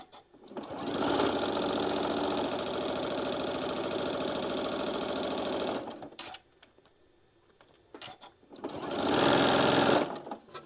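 A sewing machine runs steadily for about five seconds putting in anchoring stitches while joining quilt block pieces, pauses, then runs again in a second short burst, close and fairly loud with no talking.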